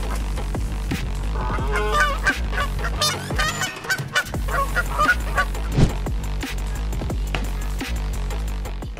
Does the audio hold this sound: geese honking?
yes